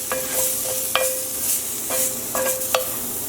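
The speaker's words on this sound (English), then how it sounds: "And I'm going to place the garlic in there." Garlic sizzles in a hot pan for shrimp scampi while a wooden spoon scrapes and stirs it in several sharp strokes. The stirring is close and clear over a steady hiss, and nobody speaks.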